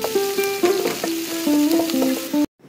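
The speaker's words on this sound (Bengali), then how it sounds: "কড়াইয়ের মধ্যে আমি তেল গরম করে সেটাতে পেঁয়াজ দিয়ে দিই" Onions frying in hot oil in a kadai give a constant crackling sizzle beneath a stepped tonal melody, then stop abruptly near the end.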